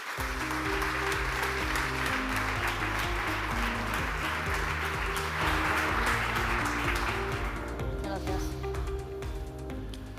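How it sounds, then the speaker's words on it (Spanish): A conference audience applauds debate panelists as they walk onto the stage, sustained full-room clapping mixed with a low musical bed, tapering slightly toward the end. "Un aplauso para ellos."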